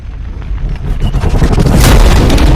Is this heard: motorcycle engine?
no